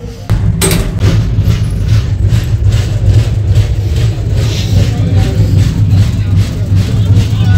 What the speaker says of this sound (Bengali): এখন কিন্তু ট্রেন এসে পৌঁছালো মুঘলসরাই